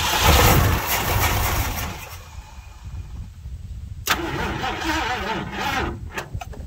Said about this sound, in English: I'm gonna give her one more crank, and they don't want to run more than a second or two.